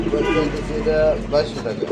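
Racing pigeons coo softly in a brief burst, with someone talking over them close by.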